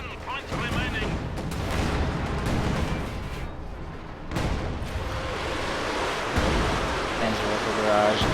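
A Panzerwerfer rocket artillery barrage in a video game, heard as rumbling blasts and sharp bangs over a continuous roaring wash of battle noise, with a person talking over it.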